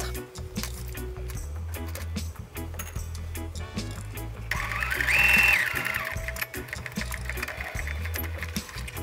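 A sewing machine runs a zigzag overcast stitch along a fabric seam of a menstrual underwear garment, with rapid rhythmic needle clatter in bursts, rising to a louder steady run midway, close and clear.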